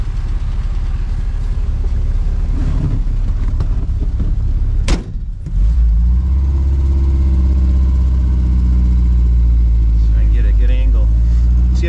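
A 1962 Triumph TR4 idles with a low, steady engine drone, then after a brief clunk the engine note swells louder as the car sets off driving, with someone talking over the engine early on.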